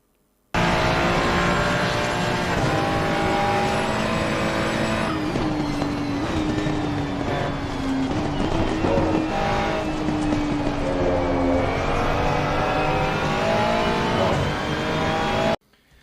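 Race car in a sim racing game braking hard and downshifting to second through a corner, its engine loud and continuous with pitch dropping on the brakes and climbing again on exit, alone without voices.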